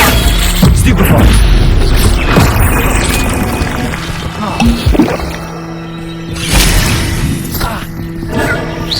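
Hogwarts Legacy spellcasting of Stupefy: sharp magical impacts and booming crashes strike in irregular bursts amid game clatter, loud and close, with a voice present nearby.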